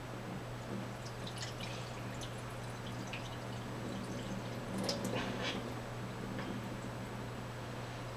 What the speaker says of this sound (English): you'll just take and you'll dump the water out